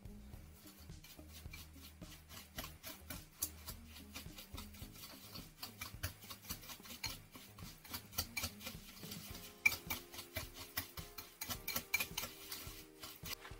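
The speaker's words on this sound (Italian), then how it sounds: "Ora vado a mescolare tutto quanto." A spoon stirs a homemade apple-cinnamon body scrub of coconut oil and cinnamon in a bowl, giving steady soft scraping and ticking taps, quiet and close, with no talk.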